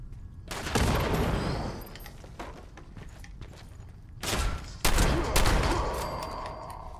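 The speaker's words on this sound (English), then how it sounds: "Grenade going in." Fallout 76 combat erupts with a grenade blast and bursts of gunfire, loud booming hits and rattling shots, with a second heavy explosion later, over a low background rumble.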